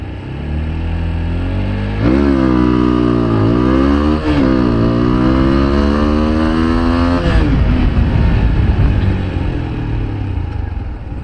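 A TVS Apache 160 4V motorcycle in sport mode accelerates hard from standstill toward 60, engine roaring loud and close as it climbs through the gears, with pitch rising and dropping at each shift.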